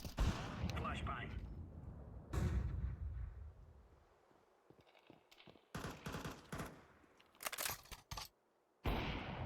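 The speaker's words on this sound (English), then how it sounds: "Flashbang." A flashbang grenade goes off in a video game with sharp loud bursts and booms among gunfire and rumbling effects, while a person talks over the action.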